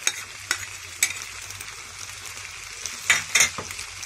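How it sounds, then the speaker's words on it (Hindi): Chicken pasta with mayonnaise is stirred and mixed in a pan, with soft scraping under a faint sizzle and several sharp spoon clacks against the pan, loudest near the end. "इसे अच्छे से हम मिला लेंगे।"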